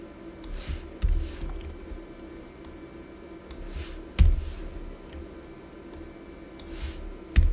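Keyboard typing and mouse clicks while commenting out loops in a PHP file in VS Code: sparse, irregular clicks and taps at close range over a low steady hum, with a few sharper louder strikes and no talking.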